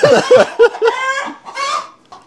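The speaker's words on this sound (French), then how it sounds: "pendant qu'il y avait le concert des poules, Léandre et moi, on parlait de taux de ponte" Several hens cluck in short, loud bursts close by, followed by a longer drawn-out squawk and a final brief cluck.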